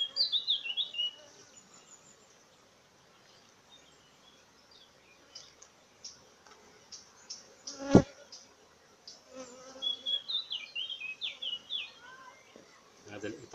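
Honey bees from an opened hive that has grown from three frames to a full colony buzz in a steady, moderate drone, with occasional close, louder passes and a sharp knock near the middle. Someone speaks now and then.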